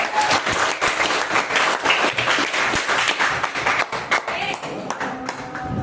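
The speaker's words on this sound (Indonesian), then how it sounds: "Tepuk tangan dulu." A class of students claps steadily and loudly for several seconds, a dense patter of hands without pause.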